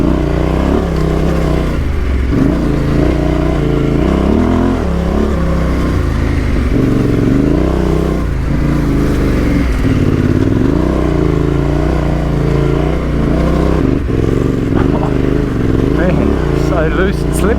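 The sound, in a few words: Yamaha Tenere 700 motorcycle riding up steep loose road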